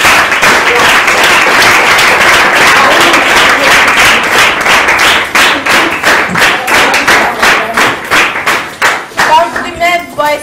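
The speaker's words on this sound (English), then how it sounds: "Clap for her." An audience claps loudly and continuously at a children's event, then the clapping thins into separate, rhythmic bursts toward the end, with some voices in the mix.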